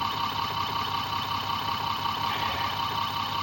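A small off-grid generator built around a BLDC motor runs steadily at idle, its engine drone droning evenly and continuously at close range with no talk over it.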